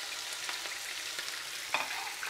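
Chopped onion, lightly salted, frying in hot oil in a pan, a steady close crackling sizzle with a few sharper pops and spits throughout.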